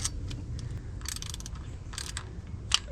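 Ratchet clicking in short bursts while bolts are tightened on the starter of a Jeep Cherokee 4.0, with quiet, fairly steady mechanical ticks and one sharper click near the end, no talking.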